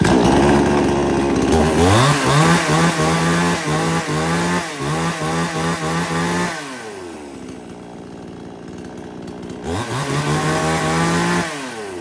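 A low-cost chainsaw for light use, one of a lot of used Japanese saws, runs loud and close. The engine revs up and down several times, dips briefly to a lower idle, then revs again, with no talking.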